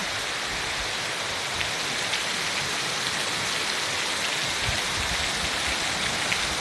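Heavy rain pours down steadily, a dense continuous hiss with scattered drops spattering on surfaces, close and loud throughout.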